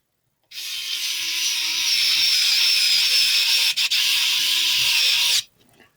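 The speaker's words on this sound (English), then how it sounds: "Here we have our torque screw." An electric torque screwdriver whirs steadily for about five seconds, close up, with one brief hitch near the end, driving screws into a DJI FPV drone 6S battery mod housing.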